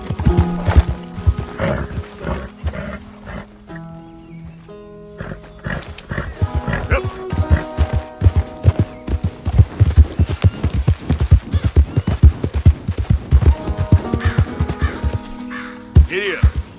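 Horse hooves pound steadily at a gallop in Red Dead Redemption 2, a rapid rhythmic clatter running through most of the stretch, with a whinny and game music underneath and a voice urging the horse on.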